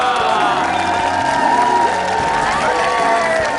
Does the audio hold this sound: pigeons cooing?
no